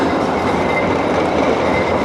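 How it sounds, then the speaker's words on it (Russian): Tram number 40 rumbles past on a Saint Petersburg street, a loud, steady, close rolling roar of wheels on rails that fills the whole stretch without pause, with no voices. "Прогрохотал 40-й трамвай."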